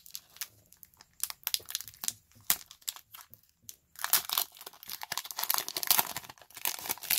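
A Pokemon Ultra Prism booster pack is torn open by hand, with sharp foil crinkling and tearing that turns into dense, continuous rustling in the second half, close and fairly quiet.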